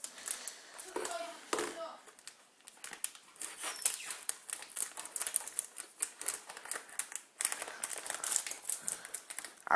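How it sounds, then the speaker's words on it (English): A new packet of grated cheese is cut open quickly, giving rapid crinkling plastic and sharp snipping taps close by, dense and busy throughout with brief pauses. "this is a new packet, so I'm going to cut it open"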